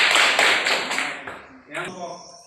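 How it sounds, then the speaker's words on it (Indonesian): A classroom of students claps for a discussion group, a short burst of rhythmic hand claps that fades after about a second and a half, followed by a voice speaking. "tepuk tangan untuk kelompok 1"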